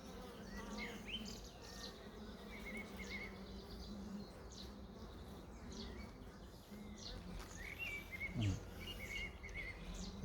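Honeybees buzz steadily around an open beehive during a hive inspection, a continuous close swarm drone with no talk over it.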